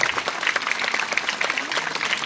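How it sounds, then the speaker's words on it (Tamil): A seated crowd at an awareness rally event with silambam martial arts performers gives a round of hand clapping, its individual claps crisp and fairly close in a quick, uneven patter. "நல்ல கை தட்டலாமா? சரியான கைத்தட்டு."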